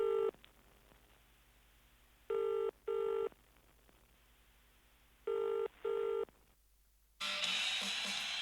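British telephone rings in the classic double-burst pattern, two pairs of clear electronic trills separated by a pause, close and alone, before a burst of noisy sound cuts in at the end.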